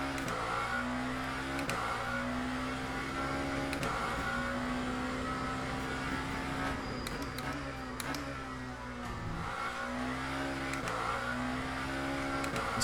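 A Lamborghini hypercar in the Le Mans Ultimate racing game drones steadily at high revs, with repeated sharp gear-shift breaks and brief dips as it brakes and re-accelerates through corners, no talk.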